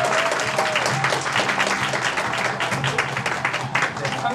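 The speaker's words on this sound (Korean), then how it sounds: "큰 박수 받아주시죠" Steady, dense applause from the audience at a radio station award ceremony as a top prize is handed out, loud and continuous with a faint voice underneath.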